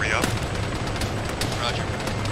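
Dense, continuous gunfire in the military video game Arma, rapid automatic bursts packed into a loud ongoing barrage with no pauses.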